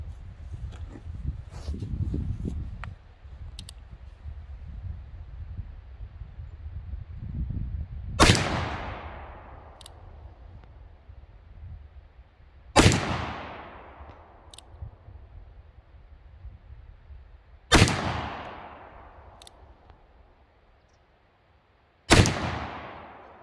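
Four loud, sharp revolver shots from a Pietta Remington New Model Army black-powder revolver, fired at 25 paces several seconds apart, each crack ringing out into a long decaying echo outdoors.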